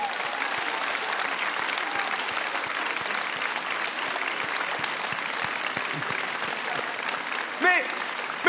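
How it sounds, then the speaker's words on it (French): A large audience at the final of a high-school eloquence contest bursts into sustained, dense applause, loud and steady throughout, with a faint voice surfacing near the end. "S'il vous plaît, un fracas d'applaudissements pour Younes!"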